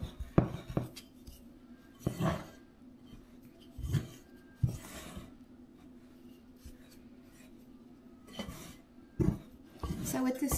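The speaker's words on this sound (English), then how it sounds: "And then you just get to mixing. This dough whisk is also a lifesaver when it comes to making different breads." A dough whisk mixes shaggy bread dough in a bowl, giving intermittent scraping knocks and clatters separated by quieter pauses.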